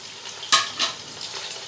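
Mutton tipped into fried onions in a pot for yakhni pulao: a sudden bright sizzle burst, then a couple of softer hissing surges as the meat hits the hot oil, close and alone.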